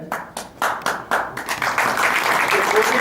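Clapping at a Maithili book launch, starting as a few separate claps and quickly building into a steady burst of applause from a small crowd.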